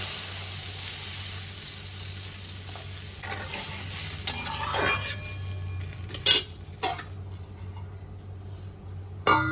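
A watery mango and potato sour dish stirred in a pan, soft steady simmering with a low hum and a few sharp utensil knocks against the pan, moderately quiet.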